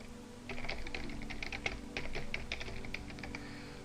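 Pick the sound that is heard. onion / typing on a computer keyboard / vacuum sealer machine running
typing on a computer keyboard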